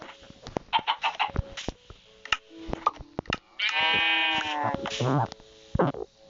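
High-pitched chick cheeping mixed with clucking and other bird calls, while someone talks and shouts nearby.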